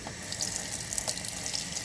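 Tap water runs steadily into a sink while a makeup brush is rinsed beneath the stream, a close, continuous splashing hiss with no talking.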